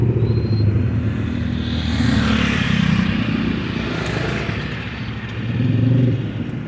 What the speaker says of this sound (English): traffic's starting to get kind of backed up here